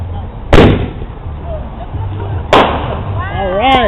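A daytime firework bursts outdoors with two loud, sharp booms about two seconds apart, each trailing into a rumble, and a voice calls out briefly at the end.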